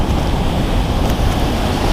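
Big ocean waves surge against a rocky shoreline of boulders on Little Corn Island, a steady loud broadband wash with wind buffeting the microphone and no voices.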